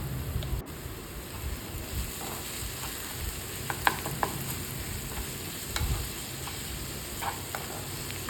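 Onion-garlic masala with sugar being sautéed in oil for a street-style masala uttapa: a steady sizzle with scraping stirs and small crackles throughout, close up, with no voices.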